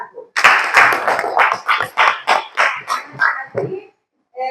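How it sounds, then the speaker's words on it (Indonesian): Classroom applause for group 1: a short burst of rhythmic group clapping, fairly loud and close, beating in a steady pulse for about three seconds before fading out, with a brief voice at the start. "jadi berikan aplaus dulu untuk kelompok 1"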